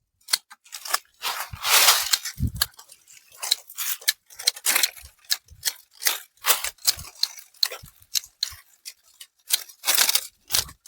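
Pruning shears snip dry, thin twigs from a golden custard apple (sitafal) tree in a close series of crisp, crunchy cuts at an irregular rhythm, each with a sharp click and rustle.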